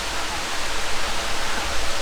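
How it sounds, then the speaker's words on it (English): Steady, dense rushing water from a waterfall on the Falls Trail in Ricketts Glen State Park, Pennsylvania, roars without pause, a broad continuous hiss of falling water heard close by. "we are beginning to descend down into the second waterfall on our journey here"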